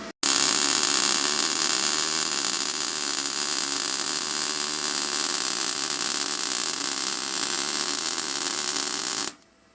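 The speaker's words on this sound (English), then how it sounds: "This is the lap weld on 2mm plate on easy set." An R-Tech MIG181 digital MIG welder runs a lap weld on 2mm steel plate at its easy setting, giving a steady, loud crackling hiss that holds evenly for about nine seconds and then cuts off.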